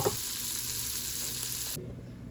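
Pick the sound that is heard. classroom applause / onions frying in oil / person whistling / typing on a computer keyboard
onions frying in oil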